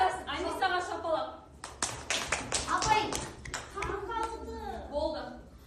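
Applause breaks out in a classroom for a pupil named Ainisa during a Kazakh language lesson: a short burst of many hands clapping, set between stretches of the teacher talking.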